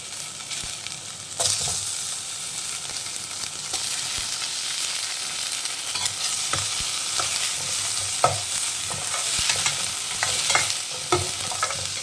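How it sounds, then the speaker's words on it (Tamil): Paneer frying lightly in a hot pan: a steady close sizzle runs throughout, broken by scattered scrapes and taps of stirring with no voices. "நம்ம பன்னீரை வந்து இதில் சேர்த்து நல்லா லைட்டாக ஃப்ரை பண்ணி எடுத்துக்கலாம்"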